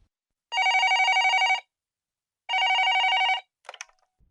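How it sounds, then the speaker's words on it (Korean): A telephone bell rings in two long, steady bursts separated by a short pause, loud and close, followed by a brief clatter as the receiver is picked up; no one speaks. "갑자기 전화가 왔다."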